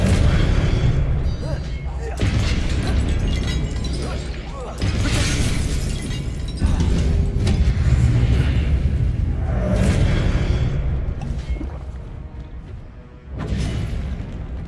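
Incendio and Expelliarmus spells cast in a video game, heard as repeated booming bursts and whooshing blasts in loud waves, with a player talking over them.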